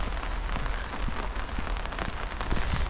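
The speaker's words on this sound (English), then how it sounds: "doesn't really matter that it's raining" Steady rain falls on an allotment, a dense, even patter of drops hitting nearby surfaces throughout, fairly loud with no voices.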